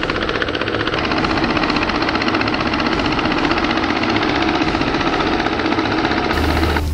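The engine of a mobile rice milling machine runs on a village road, a loud, continuous rough mechanical drone with a dense rattling hum that holds steady throughout.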